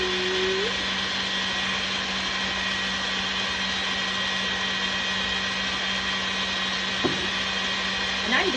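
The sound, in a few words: mixer machine running at max speed, making chocolate marshmallows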